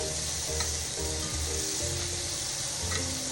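Pork searing in a pan gives a steady, close sizzle and crackle that holds for a few seconds with no voices over it.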